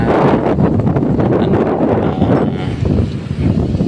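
Loud wind buffets the microphone with a dense, roaring rumble that swells and eases without letting up. No talk is heard.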